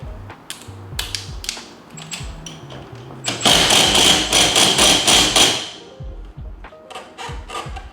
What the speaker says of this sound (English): next we're going to tighten this hub bolt